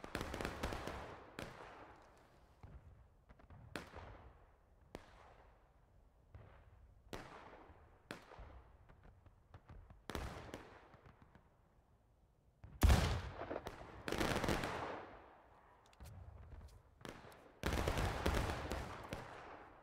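Musket volleys and scattered rifle shots ring out in the Civil War game War of Rights, with repeated sharp bangs at irregular intervals, several louder near volleys crashing late and trailing off, no talking.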